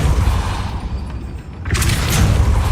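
A Depulso spell cast in Hogwarts Legacy lands as a loud, booming burst with a short rumbling tail, then a second forceful whoosh-like blast.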